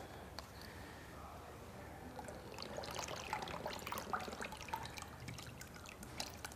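Liquid cream is poured into an Om Ali dessert made with pancakes, producing a soft, continuous trickle and splashing that grows busier midway, heard up close at a low level.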